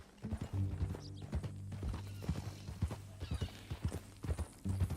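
Horse hooves clip-clopping in Red Dead Redemption 2: a steady, close four-beat rhythm of hoof strikes at a walk, clear and moderately loud with faint ambient background.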